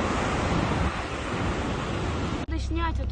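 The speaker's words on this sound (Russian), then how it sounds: "Тихий океан." Pacific Ocean surf pounds a black sand beach on Kamchatka, a loud, close, continuous roar mixed with wind buffeting the microphone. The sound cuts off abruptly near the end, where a voice is heard.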